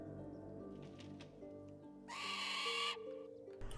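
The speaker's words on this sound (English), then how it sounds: "What was that bird?" A bird call in a fantasy video game, a brief hooting, owl-like cry that rises over a quiet bed of background music.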